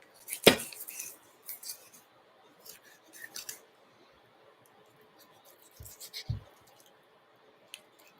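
Paring knife cutting through a whole turkey: quiet, sparse scraping and snipping clicks with a couple of sharper knocks, short bursts separated by near silence, close to the listener and without talk.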